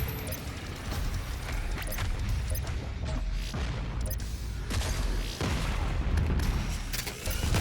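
Sustained heavy weapon blasts and booms from the BFG 10,000 in Doom Eternal, dense and loud throughout with layered explosive crashes and no pauses.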